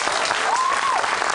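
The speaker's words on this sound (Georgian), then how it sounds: "აი აქ უნდოდა ტაში აქ" A studio audience on a late-night talk show claps in a steady burst, with a brief tonal sound rising over the clapping.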